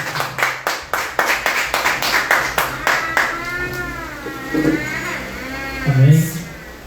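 Church congregation clapping in a steady rhythmic beat during worship, a string of sharp regular claps that fades as a drawn-out voice, likely singing, takes over.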